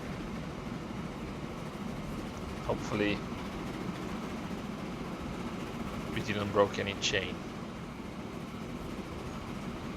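A train runs in a factory-building video game with upgradeable cars, giving a steady, even rumble throughout. A player talks briefly over it twice.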